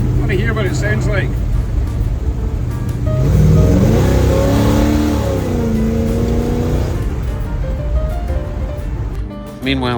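A 1936 Chevy Coupe with a small block Chevy 350 and oversized mufflers rumbles loudly, its engine note swelling in a rev and then settling, with voices over it outdoors.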